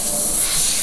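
An airbrush sprays thick white paint at higher pressure onto graffiti-style hats, making a steady, loud, close hiss with no break for just under a second.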